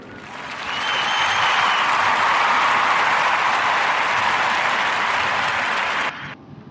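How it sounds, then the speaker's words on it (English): A podcast audience claps for Carter in a steady, full round of applause that swells quickly, holds for several seconds, then cuts off abruptly. "clap it up for Carter"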